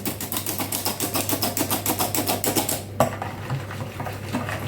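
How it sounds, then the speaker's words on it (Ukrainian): Dough for fried cabbage pies being mixed by hand in a bowl, a steady rhythmic slapping and tapping for about three seconds that then gives way to softer, irregular handling over a low constant hum. "І замішуємо тісто."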